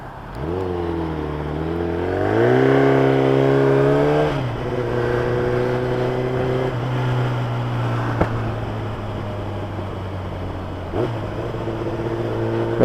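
A 2012 Kawasaki Ninja ZX10R with 57,000 km on it, its engine revving and rising in pitch while ridden, then easing back into a steady drone after a gear change. Loud and continuous, with no talking.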